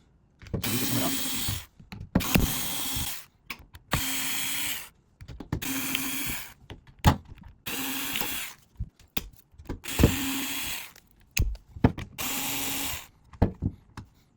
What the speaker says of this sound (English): I'm going to be using an electric screwdriver